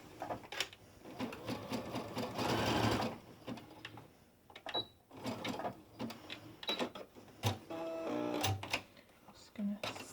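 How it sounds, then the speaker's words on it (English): A sewing machine stitches a raglan top's thumb-hole cuff along marked lines in short whirring bursts with pauses, running under someone talking quietly throughout. "And then we're going to sew along these marked lines."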